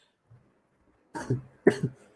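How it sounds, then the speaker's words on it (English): Two sharp coughs in quick succession, close and fairly loud, after a faint brief sound and a pause. "I still have to cough."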